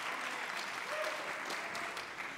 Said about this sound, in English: That, yes, you can clap for that